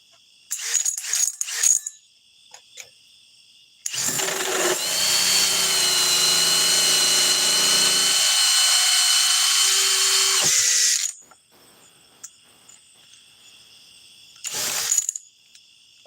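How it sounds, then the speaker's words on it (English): A cordless power drill rated at 930 inch-pounds of torque whirs at high speed for several seconds, bracketed by short mechanical clicks and rattles before and after. "This is a stronger drill. 930 inch-pounds."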